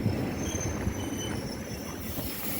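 A Russian commuter train pulls in, a steady broadband rumble of wheels on rails with faint high squealing tones, heard close and continuous with no talking.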